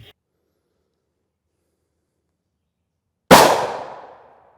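After a few seconds of near silence, a single sharp, loud gunshot fires at an NIJ Level IIIA aramid helmet, its crack decaying into a short fading echo over about a second.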